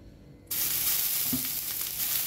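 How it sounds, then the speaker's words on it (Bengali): Water splashed onto a hot dosa pan set over low heat erupts into a sudden, loud, steady sizzle that keeps hissing evenly to the end, with a faint clink partway through. "তো দেখো, আমি একটু এরকম জল মেরে নিলাম"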